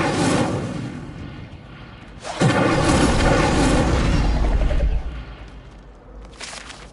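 Fiery Incendio spell effects in Hogwarts Legacy: a loud whooshing burst at the start, then a second louder booming blast lasting a few seconds before it fades, with a smaller flare near the end.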